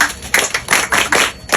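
School kids on an excursion clap together in short, uneven bursts of close, sharp hand claps that start and stop over a couple of seconds.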